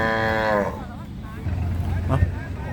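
Water buffalo at a Thai livestock market give a loud, drawn-out low near the start, with a voice talking over the busy market background afterward.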